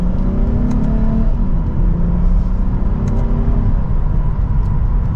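A 2024 Lexus IS 350 F Sport accelerates from second gear, heard from inside as a loud, rising engine drone and deep road rumble that build steadily over a few seconds without talking.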